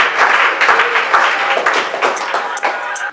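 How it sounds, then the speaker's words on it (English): Audience applause at an art exhibition event, a dense, steady wash of many hands clapping close and fairly loud, with some voices mixed in throughout. "Please, a round of applause for"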